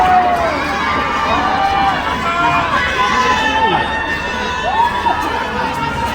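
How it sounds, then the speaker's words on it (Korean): A large outdoor crowd cheers and shouts at a festival concert, the Yeongju Korean Seonbi Culture Festival, a loud, continuous roar of voices with scattered whoops and rising calls throughout. "박수 많이 주세요"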